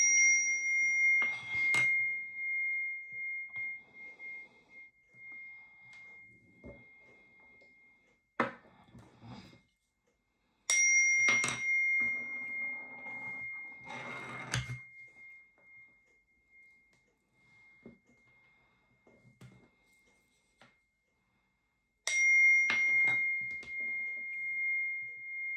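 Handheld chimes struck to clear energy ring out in three separate bursts, each a bright sustained metallic tone with a short jangle, separated by quiet gaps and faint room noise.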